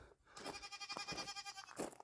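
Goats on a farm bleat in several quick, wavering cries close to the microphone, one after another over about two seconds with brief gaps between them.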